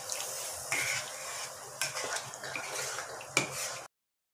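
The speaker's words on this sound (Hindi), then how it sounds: "ऐसे चलाते रहना और ये बर्तन छोड़ देगा हलवा बिल्कुल" Atta halwa (kada prasad) stirred in a pan on the stove, a soft continuous scraping and sizzle broken by a few sharper clinks of the spoon against the metal, close and quiet with no talk.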